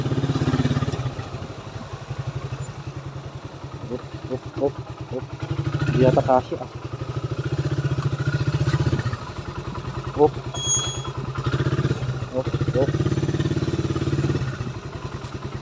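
A motorcycle engine running near a house, a steady low rumble with some clatter throughout, while a person talks over it.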